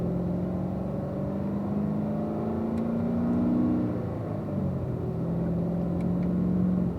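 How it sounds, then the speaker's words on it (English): Car on a racetrack course accelerating up through the gears toward third, a steady engine drone with pitch rising and dropping at shifts, moderately loud and continuous. "we'll work our way up through the gears to third gear as we come up closer to the track"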